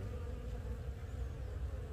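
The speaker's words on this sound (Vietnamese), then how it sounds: "Và ong bay đi lấy phấn về rất nhiều nhé." Steady low buzzing drone of many honeybees flying back to the hive entrance loaded with chrysanthemum and corn pollen, a continuous close hum with no speech.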